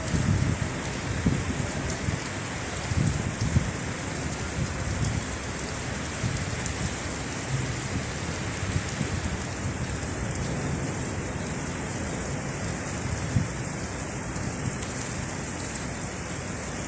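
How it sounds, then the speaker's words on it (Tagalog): Heavy rain pours down in Sharjah, UAE, a dense, steady hiss of drops hitting surfaces all around, loud and constant with light wind noise and no talking. "ang lalakas ng bagsak na ulan"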